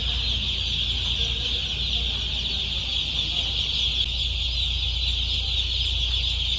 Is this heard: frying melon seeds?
no